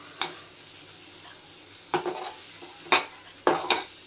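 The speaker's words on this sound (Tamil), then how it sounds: "எல்லாத்தையும் சேர்த்து நல்லா வதக்கி எடுத்துக்கிறலாம்" Four scraping stir strokes in a pan sautéing spices and chili powder in oil, irregularly spaced, with a faint sizzle and low kitchen hum between them.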